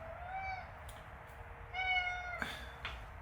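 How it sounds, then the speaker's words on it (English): A cat meows several times indoors in a storage space, clear harmonic cries coming close to the listener, with short pauses between calls over faint room noise. "there's a cat in here"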